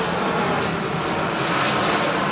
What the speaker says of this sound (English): So you can look at the airplane, how it's flying through the air up there.